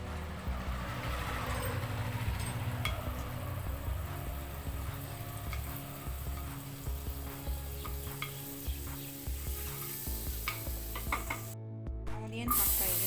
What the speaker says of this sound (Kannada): ಒಂದು ಪ್ಯಾನ್ ಇಟ್ಕೊಂಡಿದ್ದೀನಿ, ಅದಕ್ಕೆ ಬಟ್ರನ್ನು ಹಾಕ್ತಾಯಿದ್ದೀನಿ.